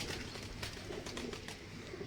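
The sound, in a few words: Salara pigeon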